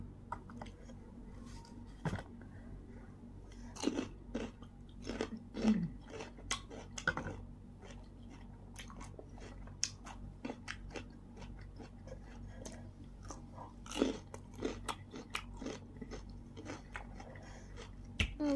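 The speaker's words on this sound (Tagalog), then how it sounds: "Paminawan na gud nato guys. O kung unsa siya ka-crunchy." Crunchy fruit bitten and chewed close to the mic, a steady series of crisp crunches and smacking chews at an irregular rhythm over about eighteen seconds, with no talking.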